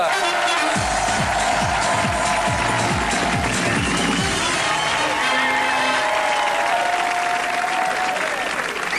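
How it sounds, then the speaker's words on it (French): Studio audience on a French TV talk show breaking into loud, sustained applause with some cheering, a dense wall of clapping filling the whole stretch beneath music and voices. "Je vous demande d'applaudir, s'il vous plaît."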